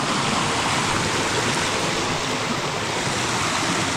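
A small creek on a forest walk near a waterfall in New South Wales flows steadily, a continuous close rush of water with no break and no voices.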